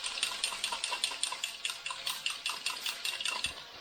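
A spoon or whisk clinks steadily against a small bowl while stir-fry sauce is mixed with cornstarch. The quick metallic taps repeat in an even rhythm, close and moderately quiet, with no talking.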